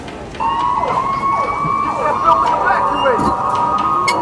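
A toy fire truck ride's electronic siren wails steadily with rising and falling tones, close by at an indoor kids' play center, while children's voices chatter over it.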